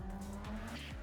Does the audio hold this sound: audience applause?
no